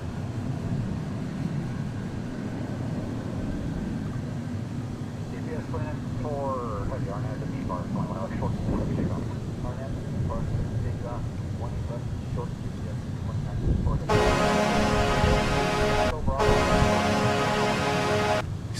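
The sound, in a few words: Boeing 767 heavy airliner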